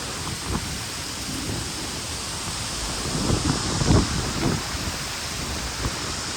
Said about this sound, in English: Quite windy out here right now.